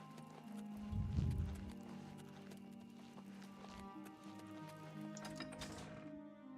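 Horse hooves clip-clop in the video game Oblivion Remastered, faint steady footfalls under game music and ambient sound, with a heavier thud early on.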